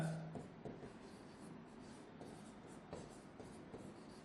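Handwriting on a board or paper during an RCC design lecture, soft scratchy rubbing strokes running steadily for a few seconds, quiet and close with no talk over it.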